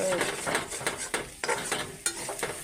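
Soybean chunks frying in a pan with a steady hiss, broken by several sharp scrapes and clinks of a utensil stirring.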